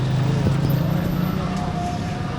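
Small horse-drawn carts move along a street, with the clip-clop of hooves under a constant hum of street noise and other sounds nearby.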